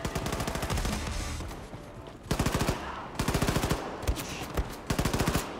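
Rapid bursts of automatic gunfire in the video game Wolfenstein II crackle in several rhythmic volleys separated by brief pauses, sharp and close.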